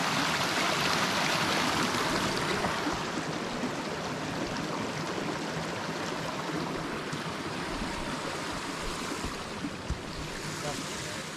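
A small wilderness stream flows beside a campsite in the Cranberry Wilderness during freezing rain, giving a steady, close, broadband rushing and burbling of water that fills the whole stretch without a break.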